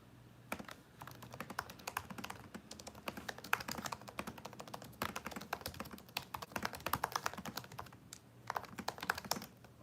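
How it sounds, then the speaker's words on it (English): A computer keyboard clatters with fast, uneven typing, key taps close and crisp in short runs with brief pauses, no talking. "Well, I sound like I'm really typing something"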